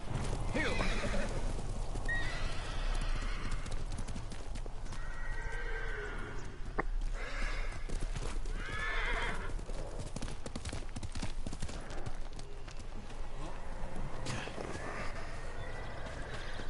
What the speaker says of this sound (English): Put my horse safely outside the tail area, so that way he cannot be shot at